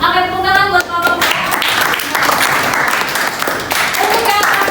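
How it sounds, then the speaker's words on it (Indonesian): A classroom of pupils claps for group 2, a burst of dense, loud applause with cheering voices that stays full throughout and dips slightly midway. "tepuk tangan buat kelompok 2"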